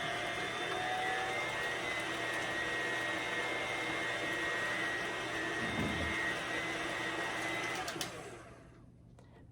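Gingerbread banana loaf batter with molasses being mixed by an electric mixer, a steady, loud whirring drone that runs continuously before cutting off near the end.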